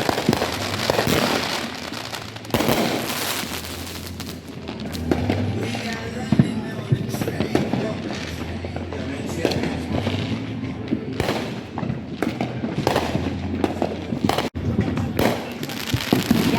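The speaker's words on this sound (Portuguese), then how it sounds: "Queima de fogos continua e vai durar a noite inteira." Fireworks and firecrackers on Independence Day night in Chicago, a continuous barrage of booms, bangs and crackles near and far, with voices heard in between.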